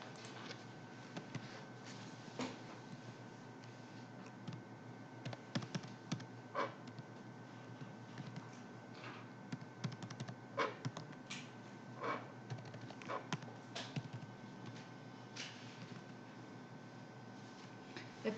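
Computer keyboard keys pressed in short irregular bursts of soft clicks during accounting software data entry, steady low background hum underneath.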